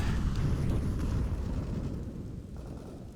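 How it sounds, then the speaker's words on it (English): Fast grenades land at the A bomb site in a CS:GO esports match at Starladder Berlin 2019, giving a loud, sustained low rumbling blast that slowly fades over about three seconds. "So some very fast nades actually towards the A bomb site."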